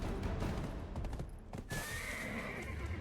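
A horse in the online role-playing game Black Desert lets out a loud whinny amid clopping hooves and steady ambient game noise, with no talking.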